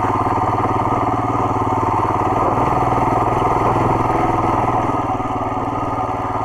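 A Royal Enfield Himalayan motorcycle engine runs steadily in second gear on an off-road track, a loud, close, continuous chugging drone with a constant rhythmic pulse and no voices.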